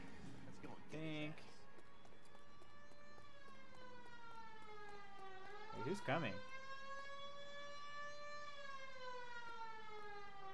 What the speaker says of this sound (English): Where's that siren coming from?